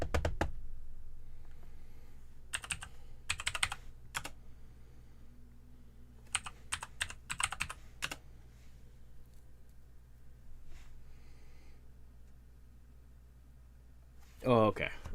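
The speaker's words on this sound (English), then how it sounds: "I'm gonna stop typing" Computer keyboard typing in short clustered bursts of key clicks, with quiet pauses between, close by in a quiet room.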